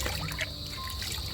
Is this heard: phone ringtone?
no